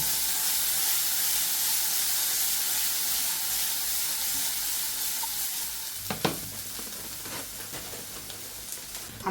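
Vegetables sizzling steadily in a hot frying pan, a continuous loud hiss with a few scraping stirs near the end.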